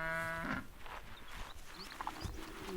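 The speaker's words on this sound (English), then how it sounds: "The cattle don't even raise their heads." Cattle grazing in the Ethiopian highlands give one clear, drawn-out moo at the start, followed by quiet outdoor ambience with faint rustling.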